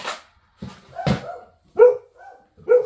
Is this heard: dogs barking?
yes